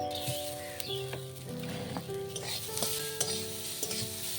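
Chopped onion, ginger and garlic fry in a wok, a steady close sizzle broken by repeated scraping stirs and light metallic clinks of a spatula against the pan, with no talking.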